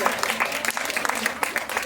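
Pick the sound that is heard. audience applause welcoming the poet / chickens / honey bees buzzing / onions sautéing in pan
audience applause welcoming the poet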